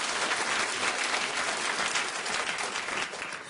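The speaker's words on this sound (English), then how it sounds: "Clap if you think she looks 41." A television studio audience bursts into sustained applause, a dense, even wash of clapping held at steady volume that eases slightly near the end.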